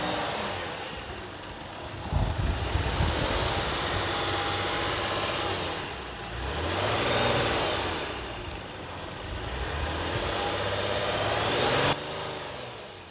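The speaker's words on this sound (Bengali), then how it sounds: "তো আমি একটু গাড়ির ইঞ্জিনের সাউন্ড আপনাদেরকে" A 2004 Toyota Crown car engine runs at a steady idle with a low hum, swelling in a few slow, gentle rises and falls, heard close and alone.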